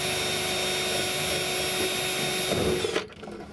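A power drill bores out a badly rusted screw holding the fuel filter bracket on a Jetta 2.0T TSI, a steady close whine running for almost three seconds before cutting off.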